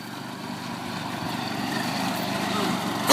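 An old riding lawn mower engine drones steadily in a mud bog, rising slightly in loudness over a few seconds, with voices talking over it.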